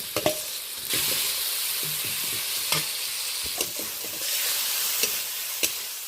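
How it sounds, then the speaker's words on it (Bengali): Fried potatoes with spices being stirred in a pan, a continuous bright sizzle broken by repeated scrapes and clacks of a spatula against the metal, close and fairly quiet, with no talking. "মশলার সাথে ভেজে রাখা আলুটা আরও একটু কষিয়ে নেব।"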